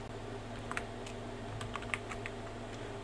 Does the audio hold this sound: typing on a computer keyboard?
yes